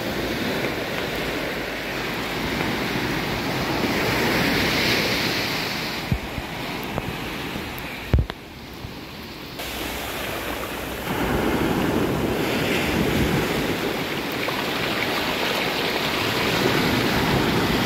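Ocean waves wash onto a small beach in Seychelles, a loud steady roar of surf with wind buffeting the microphone, a brief dip and a few handling knocks midway, then the surge returns; nobody speaks.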